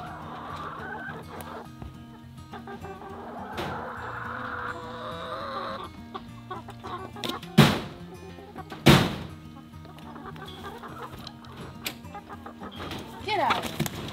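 Chickens clucking and squawking inside a backyard cage, a steady nearby chatter of hens with two sharp, louder calls bursting out midway.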